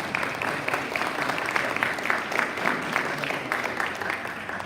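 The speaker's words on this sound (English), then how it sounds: "Let's give a round of applause." Audience at a Rotary club meeting applauding steadily for several seconds, a full, even patter of many hands clapping indoors.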